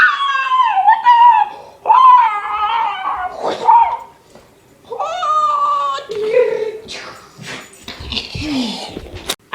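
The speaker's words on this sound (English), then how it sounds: "Doggy!" A dog whimpers, yips and howls in drawn-out, wavering cries across the whole stretch, loud and close, pausing briefly between bursts and turning into sharper yelps near the end.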